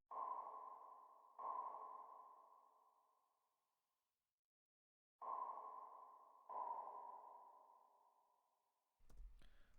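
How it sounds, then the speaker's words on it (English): Four strikes of a one-shot bell sample ring out alone, each a clear tone that swells and fades slowly, with a long quiet gap between the two pairs and a short, faint tail at the end. "I grabbed another one-shot bell."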